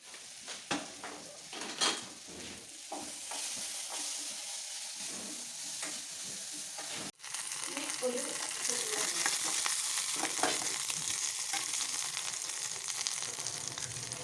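Prawns roasting in a pan for a morning breakfast of egg roast and string hoppers, a steady broadband sizzle that grows denser and louder midway, with occasional stirring scrapes and no voices.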